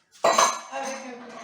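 Knife blade slicing through a chilled surimi and vegetable macédoine terrine, a short close clink of metal against a dish at the start followed by soft scraping as the cut continues.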